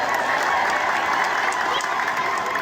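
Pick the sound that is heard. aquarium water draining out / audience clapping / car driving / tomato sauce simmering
audience clapping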